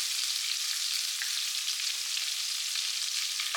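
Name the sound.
sautéing diced carrot, thyme and scallion in a pan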